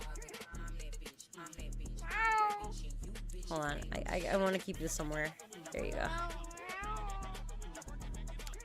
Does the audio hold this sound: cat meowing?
yes